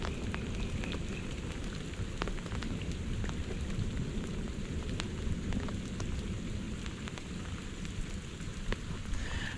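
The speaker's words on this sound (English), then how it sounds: "The thunder. I don't think I've ever heard it this loud. It's just echoing through this valley." Heavy rain pours steadily and close by throughout, with low thunder rumbling and echoing across a valley on a hike, continuous and loud with no talking.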